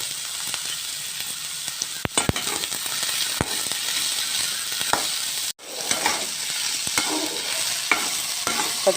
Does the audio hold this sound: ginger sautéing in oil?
yes